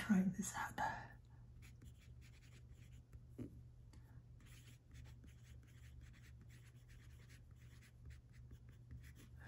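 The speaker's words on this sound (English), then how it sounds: "Let me finish writing this up." A fountain pen scratches softly across paper in short, close strokes, quiet and intermittent, with a brief murmur of speech at the start.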